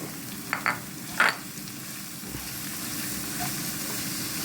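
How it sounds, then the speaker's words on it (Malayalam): Two chopped onions sauté in a hot pan, a soft continuous sizzle with a few brief stirring clinks near the start, fairly quiet and close. "ചെറുതായിട്ട് അരിഞ്ഞ സവാള രണ്ടെണ്ണം എടുത്തിട്ടുണ്ട് അതിട്ട് നന്നായിട്ട് വഴറ്റി കൊടുക്കാം"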